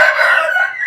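A large classic Bangkok-breed rooster crows close by: one sustained, bright, harmonic call held for the whole moment, with no talking.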